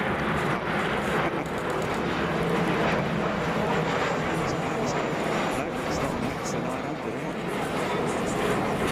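Heavy jet airliner at Frankfurt Airport, a continuous loud broadband engine roar with wind buffeting, steady throughout while a voice talks over it.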